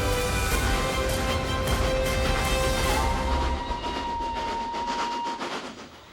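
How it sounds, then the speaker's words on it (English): A train rolls along the Tende Line Railway with a loud rumbling roar, rhythmic wheel clatter and a faint squeal, the noise easing off toward the end. "This is the iconic Tende Line Railway."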